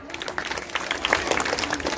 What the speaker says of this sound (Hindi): तालियां बजाओ जोर से